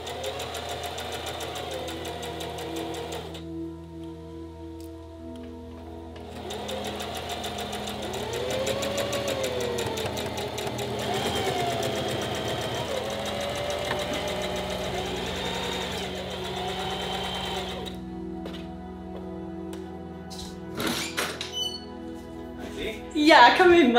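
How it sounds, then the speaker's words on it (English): A home sewing machine stitches the side seam of a maternity dress with a steady, close mechanical hum and whir that runs for long stretches and pauses briefly, while people talk in the background. "I'm just gonna sew it right down the sides."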